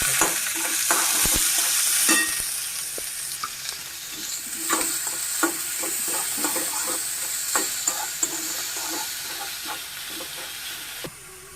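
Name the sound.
onion frying with mustard seeds, curry leaves, cumin, green chilli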